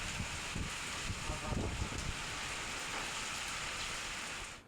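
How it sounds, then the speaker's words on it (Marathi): Unseasonal rain pours down steadily in a hailstorm, a dense, even hiss of falling water with scattered small impacts, continuous and moderately loud before fading out at the end. "लहान लहान गारा बरसलेल्या आहेत"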